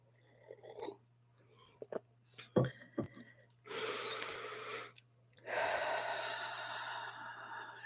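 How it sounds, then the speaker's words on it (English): Deep breathing during a guided meditation, with slow, audible inhales and long sighing exhales spaced several seconds apart, close and soft, with a faint steady hum underneath. "start taking some deep, nourishing breaths"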